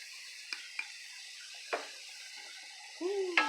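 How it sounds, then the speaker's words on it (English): Tofu scramble being stirred with spices in a pan, soft scraping stir strokes and a few light clicks, with a faint sizzle rising near the end. "Then I'm just gonna stir it in."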